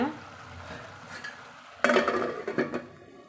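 Banana flower poriyal is stirred in a pot, with a low simmering hiss in the background before a burst of louder scraping and clattering from the spoon and lid.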